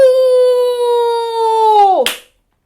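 In Noh drumming, a long sustained vocal call is stretched out and then cut off by a single crisp drum strike up close. The strike is followed by silence.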